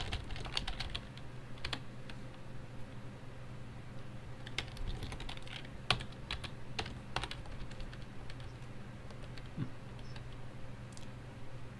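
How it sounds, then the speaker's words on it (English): Steady typing on a computer keyboard while inserting text in the vi editor, a continuous run of quiet, close key clicks with irregular rhythm and a few sharper taps, with no talking. "So press I first, and then you can type."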